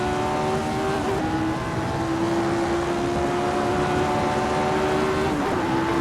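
Loud, continuous engine whine from a Lotus 49 racing car in Assetto Corsa crossing the start-finish line on a warm-up lap, holding a steady pitch with a couple of brief shifts.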